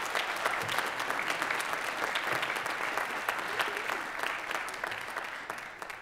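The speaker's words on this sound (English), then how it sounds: "Let's give them a big round of applause" A school jazz concert audience gives the band a big round of applause, a continuous, moderately distant patter of many hands clapping that holds steady for several seconds.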